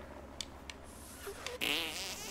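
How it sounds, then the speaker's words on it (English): A cartoonish fart effect from South Park: The Stick of Truth gives a few short faint puffs, then a louder, wetter blast near the end over quiet game ambience. "control the fart with L. When the fart is where you want, use A to detonate."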